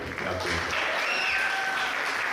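Steady audience applause at a Labor Day show fills the space, a dense, even wash of clapping that holds at full strength from start to finish with a faint whistle over it.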